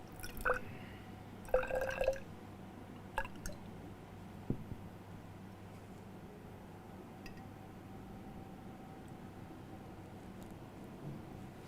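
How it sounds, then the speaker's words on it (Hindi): Water poured into a beaker holding a soil and sand mixture gives a few faint drips, splashes and light clinks early on, then fades into a quiet, near-still background. "थोड़ी सी मिट्टी डालते हैं, बालू भी डालते हैं, और इसमें भी मैं 10 ml पानी ही डालूंगी।"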